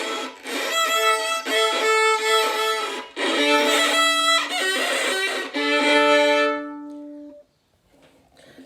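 A beginner plays violin badly: scratchy bowed notes in short uneven strokes, several separate phrases with wavering pitch, close and fairly loud, ending in a brief quiet pause.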